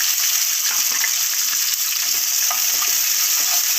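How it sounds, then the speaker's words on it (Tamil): Shallots crackle and sizzle in hot oil with cumin and pepper for a country chicken curry, a steady dense frying hiss with occasional stirring scrapes, close and loud throughout. "இப்போ நல்லா அது பொறிஞ்சதுமே இங்கே வந்து சின்ன வெங்காயம் ஒரு நூற்றம்பது கிராம் சின்ன வெங்காயம் எடுத்து வச்சுருக்கேன் அதையும் சேர்த்துக்கலாம்"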